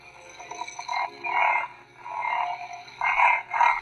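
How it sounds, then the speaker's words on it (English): A Saberforms Redeemer pixel blade lightsaber running the Ahsoka sound font hums with smooth swells as it is swung, rising and falling in several loud sweeps over a steady quieter drone. "This is its default Ahsoka sound. The harder I move it, the louder it gets. It's that smooth swing"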